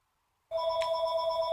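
A telephone rings in a room where a curly updo with clip-ins is being styled, a steady electronic tone with sharp harmonics that starts abruptly partway through and holds loud and continuous to the end, with no talking.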